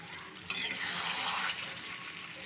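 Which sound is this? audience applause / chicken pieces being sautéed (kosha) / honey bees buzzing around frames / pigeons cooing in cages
chicken pieces being sautéed (kosha)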